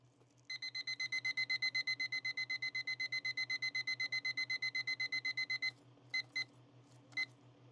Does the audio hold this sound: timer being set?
yes